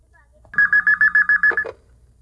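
A telephone number is dialed as a quick run of about eight evenly spaced touch-tone beeps, clear and close, followed by a brief click.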